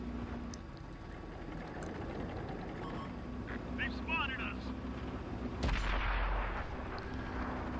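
An M18 Hellcat tank destroyer's main gun fires on the move in a tank combat game: one loud, sharp boom that rolls off over a steady engine rumble, with a voice talking through the scene.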